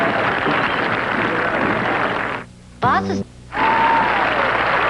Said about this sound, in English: Although Ray Floyd has won it, they're still here to give their applause and admiration for the final group